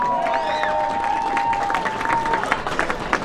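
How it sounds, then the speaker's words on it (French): An indoor crowd at a community festival ceremony gives a thunder of applause, dense clapping mixed with a few cheers and a held whistle-like tone near the start, lively and fairly close. "un tonnerre d'applaudissements."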